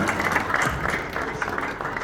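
Applause fills a church hall during an award presentation at an inauguration thanksgiving service: a dense, steady clapping from the congregation that holds at even strength throughout.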